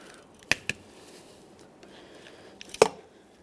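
Hose cutters snip through a rubber door weatherstrip seal from a 1994-2001 Dodge Ram 1500: two quick sharp clicks close together, a pause, then a louder crisp snip, all close and with no talk.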